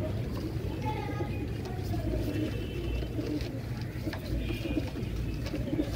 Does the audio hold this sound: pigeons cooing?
yes